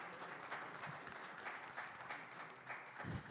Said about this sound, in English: give Ms. Starr a round of applause